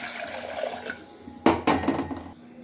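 Water and soaked rice, with sago and chana dal, tip into a pressure cooker for sweet rice pudding, a brief splashing pour with metallic clanks that lasts about a second before fading.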